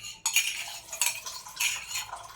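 A metal spoon stirs milk in a pan of kheer, several scraping strokes with clinks against the pan in an uneven rhythm, close and fairly loud, with no voices.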